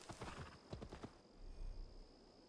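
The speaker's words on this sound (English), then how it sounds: "We're on a horse, guys." Clip-clop of horse hooves in the video game Assassin's Creed Valhalla, a quick run of close, clear hoofbeats followed by a low rumble, with a faint steady tone beneath.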